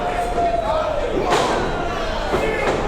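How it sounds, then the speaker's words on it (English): A wrestler's headbutt landing in a Queen's Cup wrestling match, a dull thud over steady arena crowd noise with a second impact shortly after. "Massive headbutt from Johnson."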